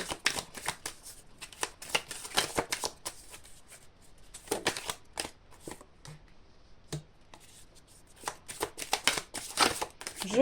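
Cards are shuffled for a tarot-style reading, soft close riffling bursts repeating irregularly in a quiet room with no talk.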